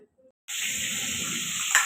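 Fish frying in a pan, starting abruptly after a brief silence: a steady, close hiss of hot oil sizzles without break, with a small clatter near the end and no talking.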